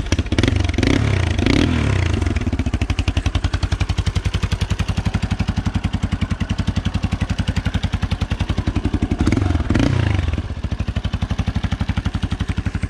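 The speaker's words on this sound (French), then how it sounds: "Pas très chaud là le quad et en plus il est très riche en niveau carbu." A quad bike engine running rich through a baffled exhaust idles with a steady, fast, loud putter, swelling into a couple of short revs near the start and again toward the end, with no voices.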